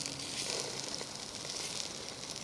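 Sausages cooking on a Trangia stove outdoors give a faint, steady sizzle and hiss with light crackles, continuous and fairly quiet, no talking.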